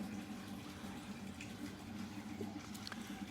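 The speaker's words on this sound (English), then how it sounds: "you might hear the water from the pool trickling away." Water from a backyard swimming pool trickles away down a drain, a steady, soft, continuous wash with faint splashy ticks and no voices.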